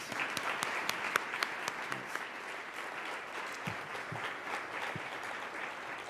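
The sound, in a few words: audience applause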